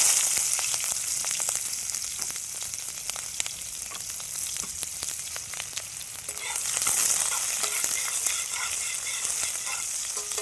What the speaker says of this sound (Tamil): கொஞ்சம் நல்லா வதக்கிக்கலாம் இப்படியே வதங்கிட்டு இருக்கட்டும் ஒரு ரெண்டு நிமிஷம் இப்படியே வதக்கலாம்